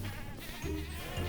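Goats in the video game Minecraft bleat as they burn, with short, nasal bleats overlapping in a brief burst.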